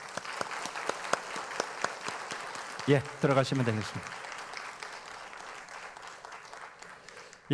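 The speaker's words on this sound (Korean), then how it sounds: "축복합니다라는 뜻에서 박수하겠습니다." A church congregation claps during a Sunday service to bless a pastor, steady applause running throughout with someone speaking briefly in the middle.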